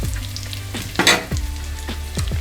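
Spices crackle and sizzle in hot oil in a pan while a Hyderabadi dalcha is cooked, with steady frying and a few scraping stir strokes, close and fairly loud.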